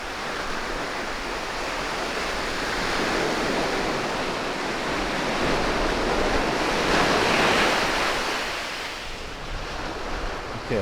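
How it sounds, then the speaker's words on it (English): Strong shore break pounds a sandy beach between Nuevo Vallarta and Bucerias, a dense continuous roar of surf with swelling crashes and some wind buffeting the microphone, loud and steady throughout. "the shore break is kind of strong today"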